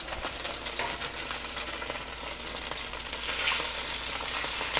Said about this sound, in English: Let it set for a little bit until it gets a good sear on that one side